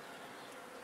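Carniolan honeybees at an apiary hive, a steady dense buzz that fills the whole moment at low volume with no pauses, close by and unbroken by talk.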